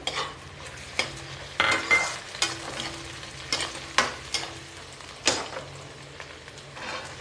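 Onions and green peas fry in a pan while a spoon scrapes and stirs them in a steady rhythm of clatters over a continuous sizzle, heard up close with no talking.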